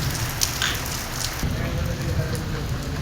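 Heavy rain pours in Lahore, a steady dense hiss and patter on surfaces with a low rumble underneath, continuous and fairly loud throughout.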